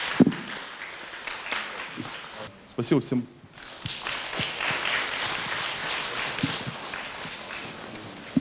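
Applause from an audience at a Shakespeare centre lecture event, a dense steady clatter of hands running for several seconds, with people speaking over it before and during the clapping.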